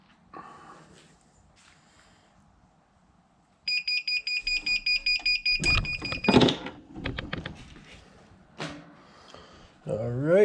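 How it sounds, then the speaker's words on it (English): A heat press timer, used while pressing a hat, gives a rapid series of about a dozen evenly spaced high beeps, followed by clattering handling noises and a brief voice. "See our timer's going, so after 30 seconds it'll beep"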